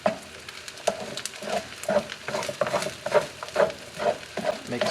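A spatula stirs fried rice with egg in a hot pan, giving a steady rhythm of scraping, tossing strokes over a soft continuous sizzle, close and fairly loud, with no talking.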